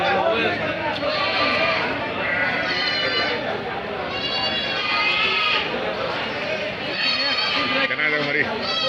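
Young goats bleat repeatedly at a goat kid market in Tumakuru, with overlapping, wavering cries from several animals mixed into steady crowd noise and people talking nearby.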